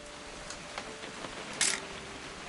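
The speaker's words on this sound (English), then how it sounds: "Just want to get a shot of you, Dawn, then we can take off." A single sharp video game camera shutter click stands out over a steady hiss of background noise.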